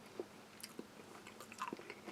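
Plain wheat crackers from a Russian army combat ration are bitten and chewed close up, giving several crisp, dry crunches at irregular intervals over a quiet background with no talking.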